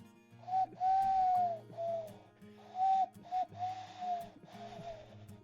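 A human voice imitates an owl's hoot, giving a series of wavering, tonal hoots in rhythmic bursts, close and fairly loud with no other talk.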